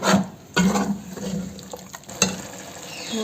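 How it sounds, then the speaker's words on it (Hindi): Onion and tomato gravy poured into a pan of chicken jalfrezi, a wet splashing and sizzling with a few sharp clatters, sitting fairly close and moderately loud. "अब इस पॉइंट पे हमने ये ग्रेवी शामिल करनी है जो हमने अनियन और टमाटो की बनाई थी"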